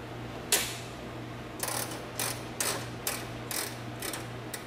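A ratchet wrench removes the 10 mm and 12 mm bolts holding the headlight assembly on a first-generation Mazda Miata. One sharp click opens the clip, then five or six short bursts of ratcheting follow at a steady pace. The sound is close and fairly quiet, with a low hum underneath.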